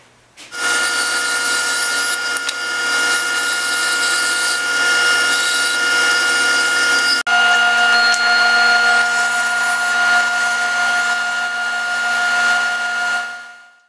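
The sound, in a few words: sander shaping wooden pattern pieces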